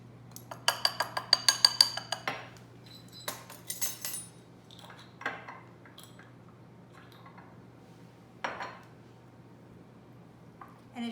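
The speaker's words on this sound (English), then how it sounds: "I'm going to add to that 2 teaspoons of vanilla extract, and I'm just going to mix that together" Cocoa paste stirred with vanilla extract in a bowl, a quick run of sticky, clicking utensil taps against the bowl followed by scattered softer scrapes and squelches, close and quiet.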